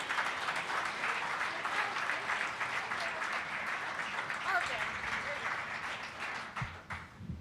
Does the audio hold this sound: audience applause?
yes